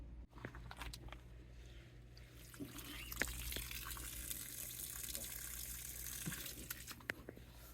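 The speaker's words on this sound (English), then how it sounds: "let's get back to flushing some water." Chlorinated water flushes steadily through RV plumbing with a soft, continuous hiss and gurgle, quiet and close, with a few faint clicks and drips.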